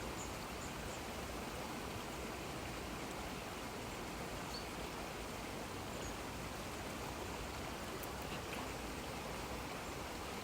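A river flowing through woodland makes a steady, broadband rushing wash, constant and unbroken throughout, moderately distant and even, with no voices.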